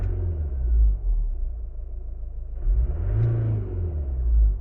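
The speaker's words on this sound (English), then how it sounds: "the engine is knocking a bit" An Audi A3 diesel engine with a knock runs with a deep, close rumble, dipping briefly before revving up again midway and settling back to a steady idle.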